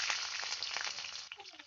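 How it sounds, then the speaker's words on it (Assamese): Onions fry in rendered pork fat, giving a dense, close sizzle that crackles steadily and then eases off near the end. A voice talks faintly under the frying. "পিঁয়াজখিনি অকণমান ভাজি লোৱা"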